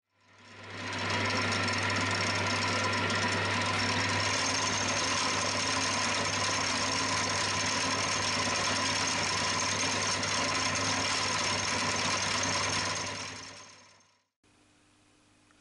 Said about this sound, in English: we'll get our end mill back in and we'll come in and just finish this to final